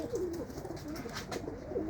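Pigeons cooing in a loft as the birds move up to the upper level, a steady low murmur of overlapping coos running throughout, fairly close and continuous with no talking.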